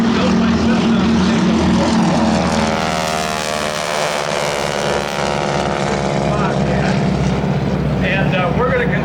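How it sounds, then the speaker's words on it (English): Cessna propeller airplane departing at the Oshkosh 2013 airshow, a loud droning engine roar with shifting pitch as it passes nearby, with a voice speaking over it. "Now, there is an airplane built by Cessna."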